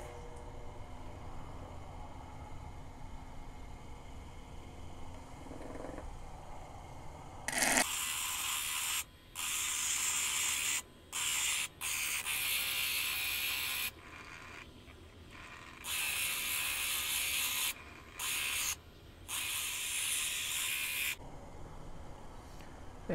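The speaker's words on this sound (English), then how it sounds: "we are using the 80 grit on the 8-inch high-tech diamond flat lap" Stone edges ground on an 80 grit, 8-inch diamond flat lap: a low motor hum that turns into loud, gritty hissing scrapes as the stone is pressed on, in repeated bursts broken by short pauses, with no voices.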